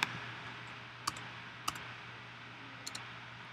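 Someone types on a Mac computer keyboard, making a few sparse, faint clicks spread out over a quiet room with a steady low hum.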